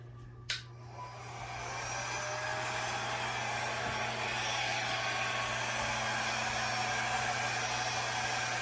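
After a brief click, a hair dryer starts and blows steadily, pushing acrylic paint across a large canvas in a Dutch pour; the loud, continuous airy roar stays close and constant throughout, with no talking.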